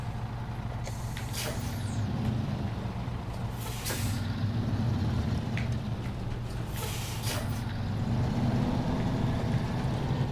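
A heavy off-road truck in the SnowRunner video game detaches its trailer: a steady low engine drone runs throughout, broken by three sharp air-brake hisses spaced a few seconds apart.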